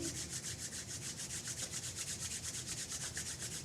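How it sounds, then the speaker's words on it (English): Palms rubbed together vigorously with a few drops of essential oil, a steady rapid swishing friction repeated in an even rhythm, close and continuous with no talk. "get a few drops in your palms of your hands and rub them rather vigorously"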